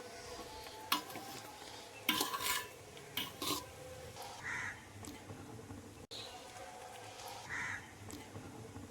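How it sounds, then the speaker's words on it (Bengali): Rice and vegetables being stirred together in a pan for fried rice, with scattered scrapes and clinks of a utensil against the pan over a low background hum, moderately quiet. "পাত্রের চাল এবং সবজিগুলোর মধ্যে একসঙ্গে মিশিয়ে নিচ্ছি।"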